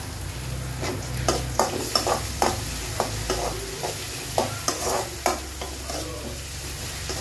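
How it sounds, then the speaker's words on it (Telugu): Tomatoes stirred into a sizzling frying pan during a vegetarian lunch cook, a steady sizzle underneath repeated sharp scrapes and taps of the spatula against the pan, close and fairly loud, with no voices. "ఇప్పుడు టమాటో యాడ్ చేస్తున్నాను."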